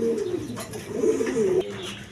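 A pair of Giribaz pigeons coo close by, several rolling, wavering coos in quick succession over quiet background noise.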